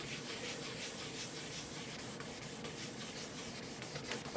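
Turpentine and two shades of leather dye being rubbed onto a freshly sanded and steel-wooled surface, a steady, soft, close scrubbing hiss that continues without pause.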